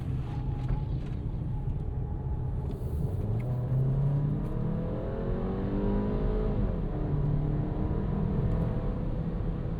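A 2026 Volkswagen Tiguan Turbo SUV with an 8-speed automatic accelerates under a steady, loud engine drone, its pitch rising and dropping at each smooth gear change, heard from inside with no talk.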